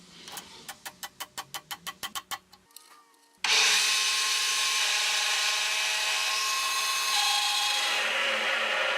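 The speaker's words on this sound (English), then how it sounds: "a heavy drill press bores a precise mounting hole through the center axis" Heavy drill press boring a mounting hole through a brass sword hilt: a run of rapid rhythmic knocks, a short pause, then a loud sustained motor whine and cutting grind that fades near the end.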